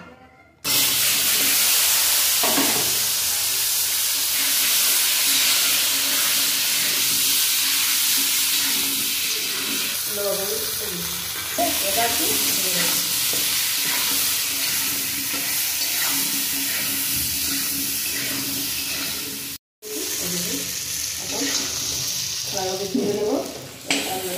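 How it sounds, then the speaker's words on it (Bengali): Tilapia fish pieces and potatoes frying in hot oil, a loud, dense, continuous sizzle with occasional clatter of stirring and a brief break near the end. "এইভাবে বাকি মাছগুলো তেলের মধ্যে এই কষ আর আলুগুলো একটু ভেজে নেব।"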